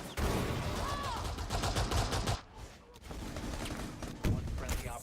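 Pistol gunfire in Rainbow Six Siege during a match, dense and loud, with sharp shots over continuous game noise and a brief lull midway before the firing resumes.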